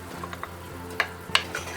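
Raspberries are stirred in a hot pot, a soft continuous sizzle with light scraping strokes and a few faint clinks of the utensil against the pot.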